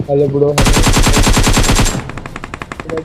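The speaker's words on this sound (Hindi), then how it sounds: "मेरे टीममेट को एक बंदा एकेएम से नॉक कर देता है अपार्टमेंट से" Rapid automatic AKM rifle fire in the BGMI mobile battle royale, a loud sustained burst of evenly spaced shots lasting over a second, then quieter, more distant rattling gunfire.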